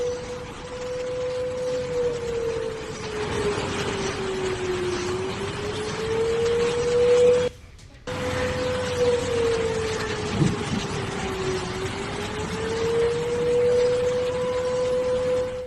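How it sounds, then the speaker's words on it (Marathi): A long air raid siren wails across a city in Pakistan, rising and falling slowly, steady and loud, with a brief cut in the middle before the wail resumes. "पाकिस्तानच्या महत्त्वाच्या शहरांमध्ये सायरनचे आवाज आता घुमायला लागले"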